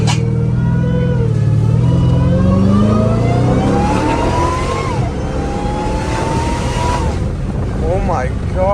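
A Dodge Hellcat Redeye with valved mufflers revs up close and loud. Its supercharger whine rises and falls with each throttle blip over a deep, rumbling exhaust.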